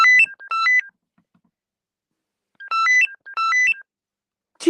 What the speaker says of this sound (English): Let me get the ringtone.